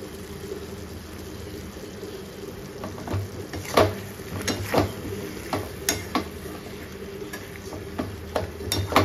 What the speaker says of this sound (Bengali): গাজরগুলো এর সঙ্গে মশলার সঙ্গে মাখানো হবে